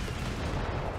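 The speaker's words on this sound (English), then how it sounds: "It's just the base artillery" Base artillery fires in a video game as a faint, muffled rumbling boom lasting about a second.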